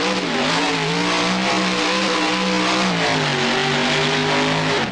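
The Maximum Destruction monster truck in the BeamNG video game spins a one-wheel donut, its engine droning loud and steady, with revs rising and dipping slightly throughout, with no voices.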